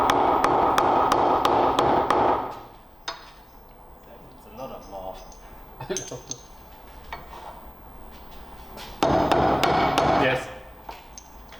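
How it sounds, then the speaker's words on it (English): Rapid, sharp hammer taps ring on a Nissan Skyline front subframe part in two loud bursts, separated by a quieter stretch of handling noises and a brief spoken word. "probably with a hammer"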